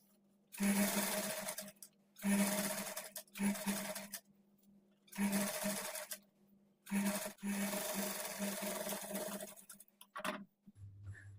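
A sewing machine top-stitches the turned-in lining along a round blouse neckline, running in five close bursts of steady rapid stitching separated by short pauses, with a low hum under each run and no voices.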